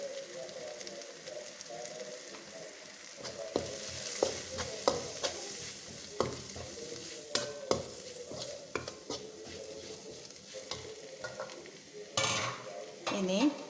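Onions sauté with turmeric, chili and coriander powder in a pan for a soya paneer pepper fry, a steady close sizzle broken by repeated spoon scrapes and taps against the pan; a voice speaks faintly at times.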